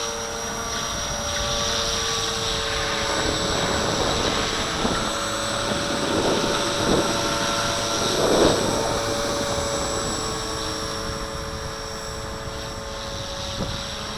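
A V450D01 RC helicopter hovers in strong wind, its rotor whine and motor drone steady and close throughout, with gusts of wind buffeting the microphone.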